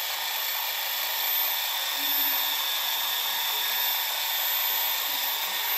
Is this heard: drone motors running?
yes